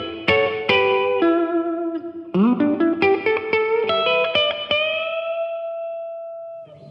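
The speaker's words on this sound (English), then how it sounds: "And finally, we have a plate reverb in there as well." Guitar chords ring out through a Blackstar ID:60 amp's plate reverb, each strum leaving a smooth shimmering tail that lingers and fades after the last note.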